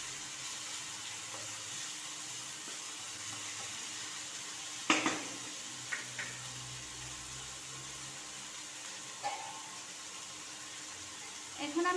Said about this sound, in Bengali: দিয়ে ভালোভাবে নাড়াচাড়া করে